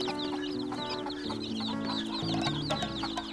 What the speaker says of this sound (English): making adorable little cheeping sounds as well.